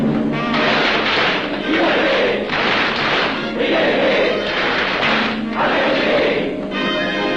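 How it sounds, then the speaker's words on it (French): Masonic lodge brethren giving the ritual triple battery of claps and a collective acclamation, heard as loud, repeated bursts of group clapping and voiced shouting in rhythmic waves, close and filling the room. "À moi, mes frères, par le signe, la triple batterie et l'acclamation"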